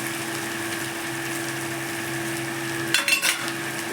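Banana flower cooked with prawns sizzles steadily in a pan as a little ghee goes in, a constant close fry with a short burst of stirring scrapes near the end.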